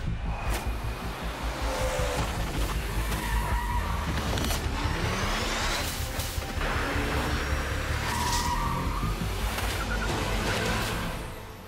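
A 2023 Honda Civic Type R, a front-wheel-drive sports car, is driven hard, with a loud continuous engine roar, rising and falling revs and bursts of tire squeal, recorded up close.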